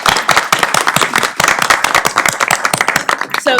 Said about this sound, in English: let's just give a huge round of applause to Kelly Edwards